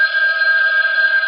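An old-style telephone bell ringing in a radio drama, one continuous, loud, bright ring heard alone for just over a second.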